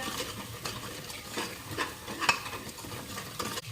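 Dry spices fry in masala in a pan while being stirred, giving soft sizzling with repeated scraping and clinking of a spoon against the pan, fairly quiet and with no talk.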